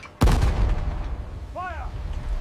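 WWII-era artillery gun firing a single loud, close blast with a ringing, decaying rumble, followed by a brief voice-like sound.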